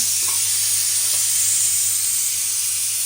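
Peanuts roasting in a pan over the stove give a steady, even sizzle with a constant hiss throughout and no talking.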